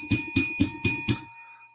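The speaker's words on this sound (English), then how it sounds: "let me ring the bell for you coming through and showing love" A bell is rung five times in quick, even succession during a sports talk show, each bright metallic strike loud and close, the last ring fading out alone.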